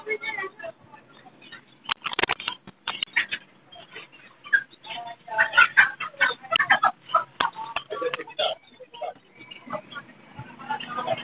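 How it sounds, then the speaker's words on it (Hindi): A pair of yellow Fischer's lovebirds chirping at an outdoor bird market, sharp high chirps and squawks coming in irregular bursts, with someone talking over them. "ये येलो फिशर का पेयर है, कन्फर्म ब्रीडर पेयर है, बड़ा पेयर है"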